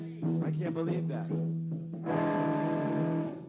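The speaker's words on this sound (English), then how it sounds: "it sounds like one of those little portable record players or something" Music playing through a small portable record player, thin and boxy with a tinny, distorted tone, steady and fairly quiet.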